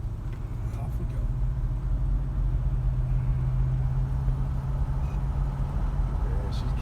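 A 1977 Ford LTD accelerating from the inside, its engine droning in a steady low hum that slowly builds as the car gathers speed, with a few faint rattles over the top.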